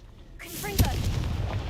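Confringo fire spell from Hogwarts Legacy detonating as a sharp explosive blast, a single loud boom with a crackling tail following a short rising whoosh.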